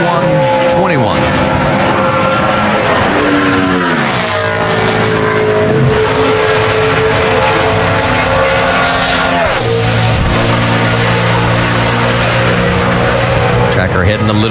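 Loud NASCAR Sprint Cup cars run qualifying laps at Homestead-Miami Speedway in 2010, their engines roaring and shifting pitch as they pass on the backstretch, with broadcast commentary over the noise.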